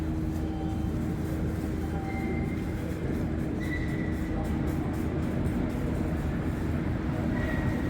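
Montréal Métro subway train riding from Côte-Sainte-Catherine station toward Angrignon, a steady rumbling roar of wheels on track with faint high squeals and tones, heard from inside the car without talk.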